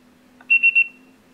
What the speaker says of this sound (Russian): Можете оставить сообщение после сигнала.